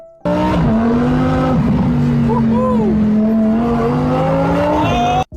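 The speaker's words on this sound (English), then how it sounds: "The sound of the V10 was incredible, even inside the cabin." A 2024 Lamborghini Huracán Tecnica's V10 engine roars and revs steadily from close range, a loud sustained howl with pitch rising and falling before cutting off abruptly.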